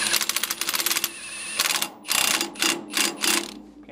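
A broken-off bolt is screwed into an axle, heard as quick bursts of rapid mechanical clicking, like a ratcheting tool, in several short runs separated by brief pauses.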